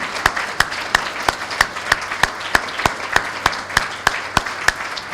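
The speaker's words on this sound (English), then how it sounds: "How about a round of applause for all these students who really," Students applauded on a civics day, heard as a clear, evenly spaced series of single sharp claps, about three per second, loud and close over a quiet room background with no talk.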